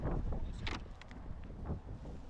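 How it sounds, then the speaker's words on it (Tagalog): Strong gusts of wind batter the microphone outdoors in bursts of low rumbling buffeting, loud and uneven, with no clear talk over it. "Yung hangin talaga."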